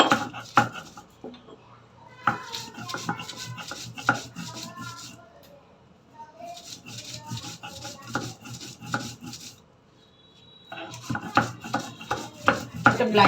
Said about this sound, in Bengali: আমি এখন এই তিনোটা একসাথে মিক্স করে বেটে নিব।